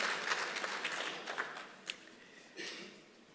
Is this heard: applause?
yes